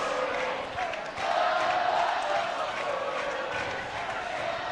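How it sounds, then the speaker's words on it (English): A crowd at a high school basketball game, Barlow at Gresham, roars and cheers in a sustained, dense wash of voices that swells slightly and carries on throughout. "Crowd trying to get Gresham into the game here."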